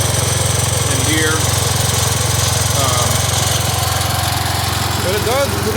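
An old Wheel Horse Raider 10 lawn tractor runs with its mower deck engaged, its engine droning loud and steady up close with a constant rumbling drone and no pauses throughout.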